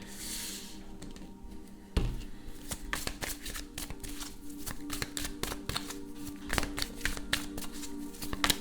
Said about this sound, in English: Let's take these cards, put them back into decks because they're not applicable anymore.